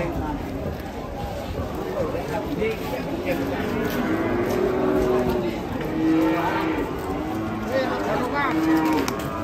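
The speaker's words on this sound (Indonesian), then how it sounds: "Sapi barongan. Barongan ya, Mas. Ini. Sapi barongan." Cattle low and moo in a crowded outdoor setting, with repeated drawn-out calls near and mid-distance over steady background noise, while people talk throughout.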